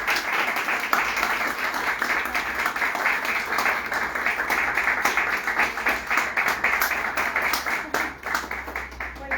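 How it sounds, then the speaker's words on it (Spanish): Applause greets a speaker being introduced at a talk, a steady wash of clapping from a modest audience that thins and fades toward the end, with a faint voice underneath. "Solia Centeno, un aplauso"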